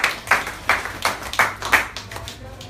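A church congregation claps in unison, about six strong rhythmic bursts at an even pace, loud and close, thinning into scattered claps by the end.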